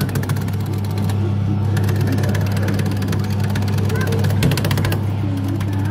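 A Northern Leisure Peppa Pig car kiddie ride runs steadily, its low motor drone continuous and close, with faint voices in the background.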